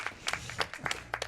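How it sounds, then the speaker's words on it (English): An audience at a speedrun marathon event claps, with sparse, uneven handclaps coming in irregular bursts, fairly close and moderately loud, and no steady roar of applause. "we can clap for that one"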